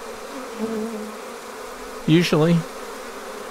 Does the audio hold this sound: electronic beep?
no